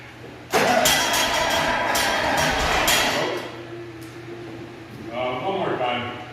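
A John Deere 4630 tractor engine catches and fires up loudly with a burst of mechanical roar, then settles into a lower rough running sound, with people talking over it.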